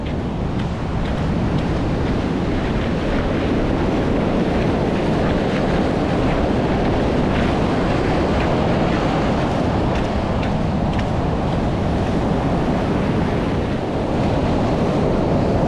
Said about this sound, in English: Boy, those are big swell coming in.